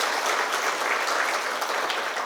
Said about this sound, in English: So big round of applause for him as well